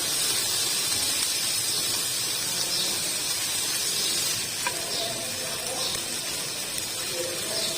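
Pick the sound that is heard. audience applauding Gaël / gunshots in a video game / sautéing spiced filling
sautéing spiced filling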